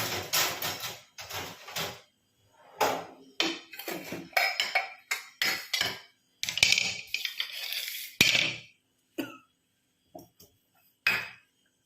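Metal clinks and scrapes in scattered bursts of a metal ladle knocking against cooking pots while preparing amla (gooseberry) dal, with short pauses between.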